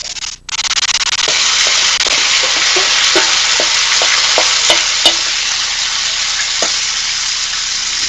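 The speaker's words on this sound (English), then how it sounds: "I can hear the sizzle, Tasha." Loud, steady sizzling of food frying in a pan, a continuous hiss with scattered pops and crackles throughout, no voices.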